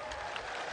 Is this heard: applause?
yes